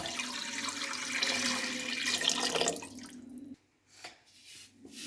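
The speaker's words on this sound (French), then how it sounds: "je la remets dans la marmite et je mets de l'eau jusqu'à hauteur." Water poured into a pot of blanched veal for blanquette, a loud continuous pouring rush that cuts off sharply, followed by a few splashes and drips.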